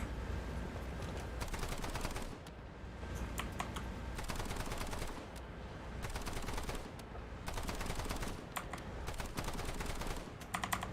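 A .50 cal vehicle-mounted machine gun firing in the video game IXWA Strike, rapid sustained bursts of gunfire separated by short pauses, fairly faint and distant-sounding, with no talk.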